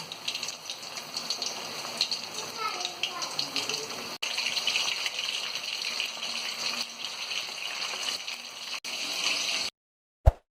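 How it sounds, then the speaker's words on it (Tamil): Chicken 65 pieces deep-fry in hot oil with a loud, rushing, bubbling hiss that runs continuously, briefly dipping twice, before cutting to silence and a short final clack; a voice murmurs faintly underneath. "நல்லா சுட சிக்கன் பொரிச்சு எடுக்க போகிறோம்."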